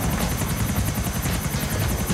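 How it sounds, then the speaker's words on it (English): Helicopter in Grand Theft Auto IV, its rotor beating in a steady fast throb with a continuous engine whine, loud and close throughout with no voices. "See that helicopter in the front of us?"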